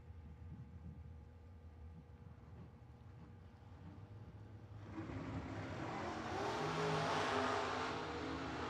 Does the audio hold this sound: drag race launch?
yes